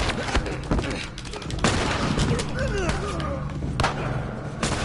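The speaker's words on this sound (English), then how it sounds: "He had a shotgun, be careful." Shotgun blasts and gunfire from The Last of Us game ring out as several sharp, loud bangs spaced across the moment, mixed with thuds and game sounds while people talk over it.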